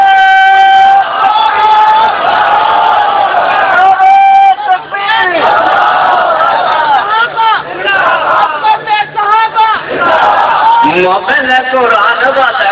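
At a religious gathering with Molvi Ahmed Saeed Khan Multani, a crowd chants religious slogans in loud, rhythmic unison, rising and falling in call-like phrases close at hand.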